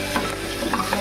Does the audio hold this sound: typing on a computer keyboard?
no